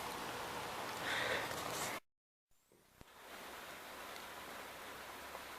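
Steady rain falls outside on a farm, a dense hiss that cuts out briefly, then returns with a faint click and continues evenly at a slightly lower level.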